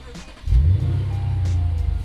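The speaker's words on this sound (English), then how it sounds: "I'm gonna start the car." A Lexus RC F engine fires up and settles into a loud, steady low rumble that carries on to the end, opening with a brief surge after a quiet moment.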